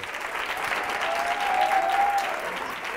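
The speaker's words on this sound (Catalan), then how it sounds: "Un aplaudiment per ells" A crowd claps steadily throughout, a dense wash of applause that swells slightly in the middle, with a faint whistle-like tone briefly riding over it.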